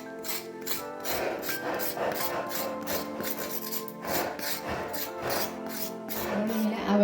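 A knife scraping the skin off a snake gourd, a rhythmic series of short rasping strokes, close and fairly even, repeated throughout with a musical tone running underneath.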